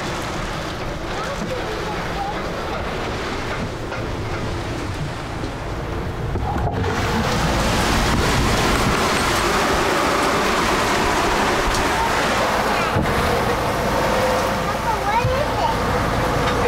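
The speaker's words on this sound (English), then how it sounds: "The wind is blowing like you would not believe all of a sudden that rain." A strong, roaring wind blows steadily and loudly throughout, with rushing noise that swells midway and stays intense.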